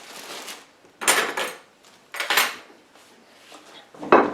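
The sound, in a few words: knife cutting a pineapple sandwich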